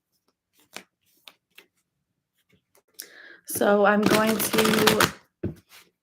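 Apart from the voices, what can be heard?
shuffling tarot cards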